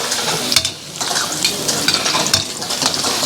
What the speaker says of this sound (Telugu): అల్లం వేసి బాగా తిప్పుతా ఉన్నా.